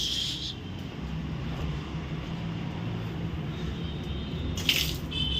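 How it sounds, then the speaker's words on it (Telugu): Steady running water, like a tap left open, flowing continuously with a broad hiss; a brief brighter splash near the end. "వాటర్ వస్తున్నాయి, no problem, no water issues"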